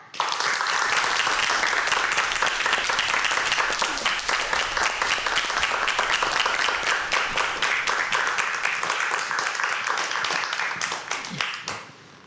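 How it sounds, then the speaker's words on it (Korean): An audience gives sustained, loud applause to welcome a professor onto a televised science talk show, with dense clapping from start to finish before it tapers off at the end. "이재형 교수님, 큰 박수로 맞이해 보도록 하겠습니다"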